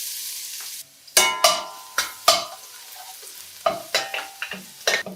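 Minced garlic frying in a few tablespoons of oil in a wok, a steady sizzle broken by sharp, loud scrapes and clanks of a spatula stirring at irregular intervals, close up with no talking.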